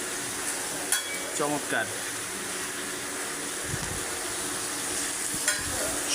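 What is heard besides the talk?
eggplant (brinjal) frying in a pan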